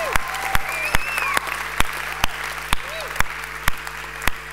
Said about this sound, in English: let's give the Lord a great clap tonight